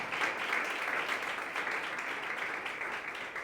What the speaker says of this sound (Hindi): तो मैं चाहता हूं अपने लिए जरा तालियां, अपने जोर से।